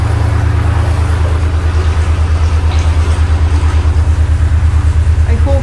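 Narrowboat engine running inside a very narrow canal tunnel on the Llangollen canal, a loud steady low rhythmic chug with a fast regular pulse, enclosed and droning throughout.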